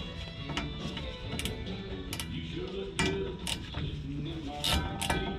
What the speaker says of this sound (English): the rear drive shaft is held on by the 7/16 head bolts. So, gotta break these bad boys free